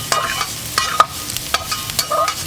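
Hatch chile, yellow pepper, garlic and red onion sizzle on an oiled flat-top griddle, with loud crackling and sharp metal spatula scrapes and taps every half second or so.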